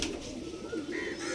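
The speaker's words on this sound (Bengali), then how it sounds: "দিচ্ছি পায়রা, দেখুন" Pigeons of a fancy breed kept for sale in West Bengal coo softly in a short, rolling sequence. A few faint higher chirps sound alongside, and no one speaks.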